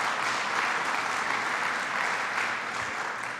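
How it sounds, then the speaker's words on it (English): Steady applause from a crowd at a governor's announcement event, dense continuous clapping heard at a moderate distance throughout the short stretch. "Let's give her a round of applause."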